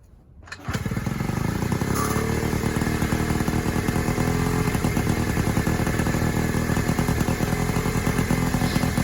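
A small Honda Urban Express scooter engine, recently revived with a clogged exhaust cleared, sputters to life and then runs steadily with a loud, buzzing, rattling drone that continues without a break.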